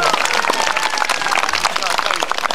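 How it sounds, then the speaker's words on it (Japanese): An audience at an outdoor tennis school event at Nihon University's Karuizawa courts gives a brief burst of dense, even applause, with a voice speaking over the clapping. "もう一回拍手お願いします"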